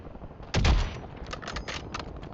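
Gunfire in a video game aimed at an enemy car, heard as one loud blast followed by a quick series of sharper, fainter shots with no talking.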